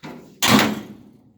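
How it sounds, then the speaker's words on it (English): The door of a 1926 Ford Model T swings shut with one solid, close slam that rings briefly and fades, preceded by a short rustle. "doors close nice."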